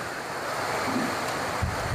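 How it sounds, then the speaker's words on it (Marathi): Heavy rain pours outdoors over open farmland in Shirur Kasar, Beed, a steady broadband hiss with some wind buffeting the microphone and a few low thumps. "आता हे बघा, जोरात पाऊस चालू आहे"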